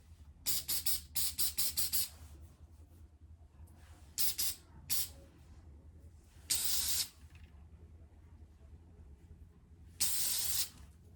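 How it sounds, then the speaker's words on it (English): Short hissing spray bursts from an aerosol can, a quick series of pumps followed by several longer sprays separated by quiet gaps. "I'm gonna spray this with hairspray"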